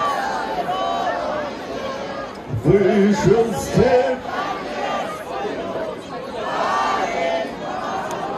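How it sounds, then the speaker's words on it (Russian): A huge crowd walks and chatters in Donetsk, a dense, steady hubbub of many voices close around, with one nearer voice briefly standing out above the babble. "Просто идет огромная толпа."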